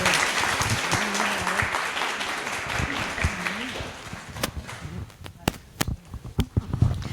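Strong audience applause after a panel discussion on the language of cinema, with a voice speaking over the start, then thinning out into scattered individual claps before dying away.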